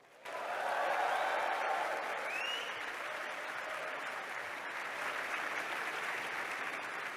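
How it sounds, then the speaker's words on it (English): Audience at a University of Warwick graduation ceremony in July 2022 bursts into sustained applause with whooping and cheering, a loud, dense crowd roar after a brief quiet start that holds steady throughout. "let's practice the whooping and the cheering"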